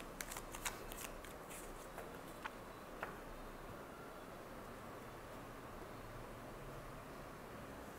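Tarot cards being shuffled and drawn, giving a soft continuous riffling rustle with a few sharper flicks and snaps early on, close and fairly quiet, with no talking.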